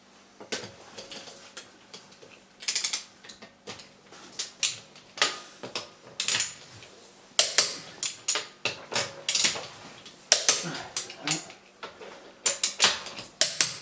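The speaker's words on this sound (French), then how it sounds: "je vais juste serrer à la main, donc là je vais la serrer" Wheel nuts being tightened on the rear wheel of a 2006 Audi A3 with a constantly dragging brake: a close, steady run of ratcheting clicks in quick repeated bursts, with short pauses between turns.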